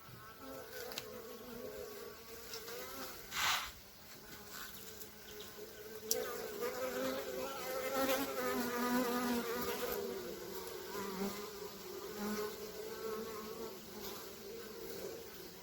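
Many bees buzz continuously close by around a hive, a droning hum that rises and falls as individual insects pass near.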